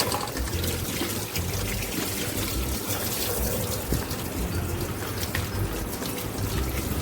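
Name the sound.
tap water running into the sink while washing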